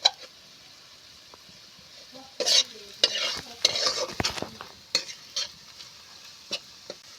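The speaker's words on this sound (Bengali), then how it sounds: "পেঁয়াজ রসুন আমার ভাজা হয়ে গেছে" Onion and garlic frying in a pan while being stirred, with soft scraping and intermittent sizzling bursts, quiet at first and busier in the middle, with no talk.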